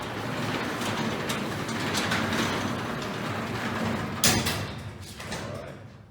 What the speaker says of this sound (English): First time you open up a door, nice and slow. Listen for any problems.